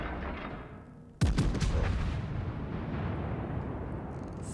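Heavy warship main guns fire in a World of Warships naval battle, one sudden loud boom followed by a long rumbling decay.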